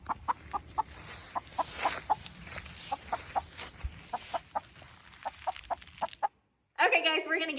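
A splash lace red Wyandotte hen inside a chicken tractor gives a run of soft, repeated clucks at an irregular pace, with a brief silence and a louder burst of sound at the very end.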